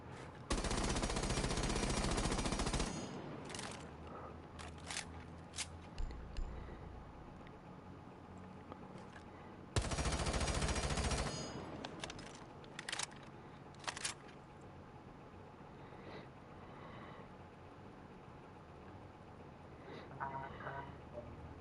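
Bursts of automatic rifle fire in Rainbow Six Siege during a recoil check, two long sustained sprays followed by shorter taps and single shots, loud and close, with some talk in between.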